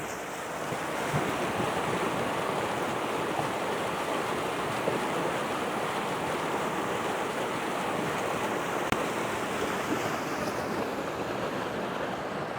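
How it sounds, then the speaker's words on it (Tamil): Falling water near a military camp: a steady, broad rushing roar that stays even and unbroken throughout, like water pouring down heavily, with some wind noise on the microphone and no voices. "பாருங்க தண்ணி எப்படி விழுகுதுன்னு பார்த்தீங்களா."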